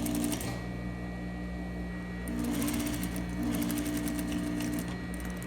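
Close sewing machine stitching a bodice facing to the center back at a 3/8 seam allowance, a steady whirring run with a brief pause and restart, alone.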